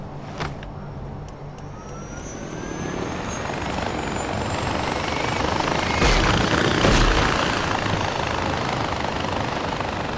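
A helicopter in the video game Far Cry 4 thrums steadily and grows slightly louder as it nears, its rotor drone continuous beneath scattered game effects, with no talking.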